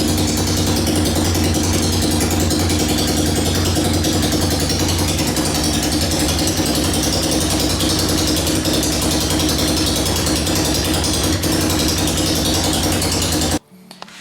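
A Yamaha Timberwolf ATV engine running without a muffler makes a loud, constant mechanical clatter with a rapid, ratchet-like rhythm, steady close by for about thirteen seconds before cutting off abruptly.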